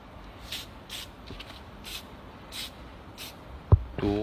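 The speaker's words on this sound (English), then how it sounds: "soft seal, you have to spray all over the corners" 3M soft seal sprayed over the corners of metal components in short hissing bursts, about five or six quick spurts spaced roughly half a second apart, fairly quiet, ending with a sharper knock.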